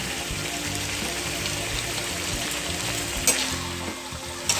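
Soy sauce chicken with a chunk of oyster sauce sizzling in a pan, a dense steady frying hiss under slow stirring, with a couple of brief metallic clinks toward the end.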